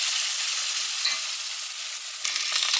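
Onions for a Belgian beer beef stew fry in a pot with a bright, even hiss of sizzling oil and a few faint stirring touches, close and steady.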